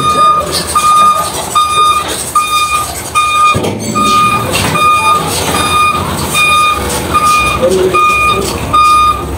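Repeated electronic reversing beeps from a truck loading onto a ferry at Matnog Port, sounding in a steady on-off rhythm over busy harbour rumble and engine noise.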